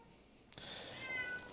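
A pet cat gives one short, faint meow nearby in a quiet indoor room, alone without voices.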